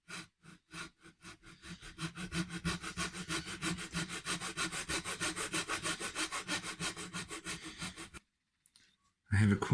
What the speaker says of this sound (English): have acquired a very thin bladed saw, a razor saw